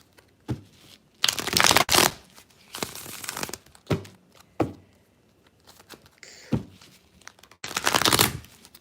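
Tarot cards are shuffled in several quick riffling bursts, crisp papery flutters separated by short pauses and soft taps, close to the listener.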